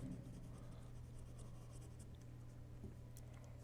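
A pencil sketching a drawing of a dog, faint scratchy strokes close by over a steady low background hum.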